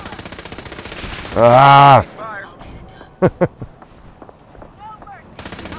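Gunfire in the video game Fallout 4: a brief burst of shots near the middle, after a loud sustained blast and a shouted cry, with game voices and effects around it.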